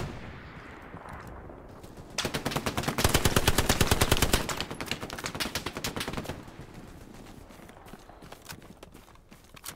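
Gunfire in the WWII shooter Hell Let Loose: a long, loud burst of rapid automatic fire rattles up close, then continues as a slightly fainter steady stream of shots over a rumbling battlefield background.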